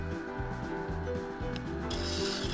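A woodturning scraper rubs against a spinning wooden bowl on the lathe, giving a continuous close rasping whir with a rhythmic pulse as the shape is refined.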